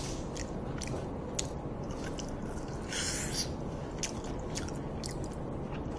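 Close, wet chewing and biting on pork trotters (jokbal), steady squishy mastication with a few crisp crunchy bites, alone and fairly quiet.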